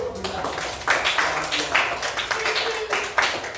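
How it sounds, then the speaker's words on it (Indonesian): Group of people clapping hands together in a classroom-style gathering, a dense, steady patter of claps that holds for several seconds with voices mixed in underneath. "bagus tepuk tangan lagi"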